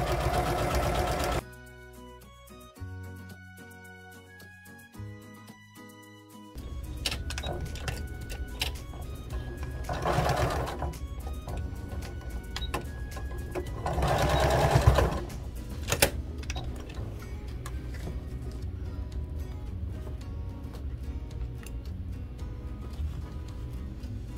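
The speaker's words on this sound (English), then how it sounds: "press your foot down and sew." Sewing machine stitching a zippered pocket onto a fabric square, running in close, loud bursts with rapid mechanical ticking, separated by brief pauses and a quieter stretch early on; no talk.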